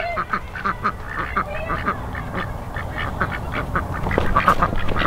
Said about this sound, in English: We're gonna give our ducks a little treat.